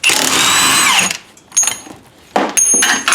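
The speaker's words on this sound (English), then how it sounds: "now the old strut here, take the nut off from on top." A power tool spins the top nut off an old front strut on a Ford Thunderbird during a suspension overhaul. It runs loud and close for about a second as a high whine, then gives a few shorter bursts.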